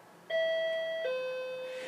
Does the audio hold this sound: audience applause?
no